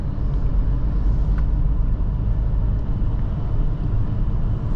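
A 2024 Volvo S60 B5 AWD engine pulls hard while driving in winter, a loud, steady, close low rumble that mixes engine and road noise and holds evenly throughout with no talking.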